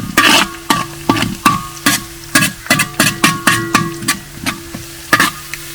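A metal spoon stirs and scrapes a Kerala-style sea crab roast with curry leaves in a pan over a village fire, sharp rhythmic clanks about twice a second over a low steady sizzle, close and loud.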